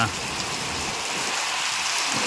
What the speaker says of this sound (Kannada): ಇಷ್ಟೊಂದು ಮಳೆ ಬರ್ತಾಯಿದೆ